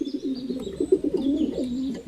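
Pigeons in a dark, dense forest coo loudly and close by in soft, rolling, repeated phrases that fill the whole moment with no talk.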